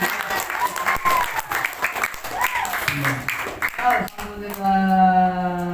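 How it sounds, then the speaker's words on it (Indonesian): Children at an elementary school Maulid Nabi celebration clap in scattered bursts while a presenter keeps talking and singing over them, then a sustained tone rings out near the end. "Tepuk tangan"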